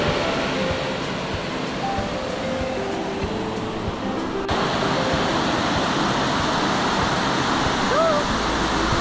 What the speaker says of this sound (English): It's just up over that little waterfall there.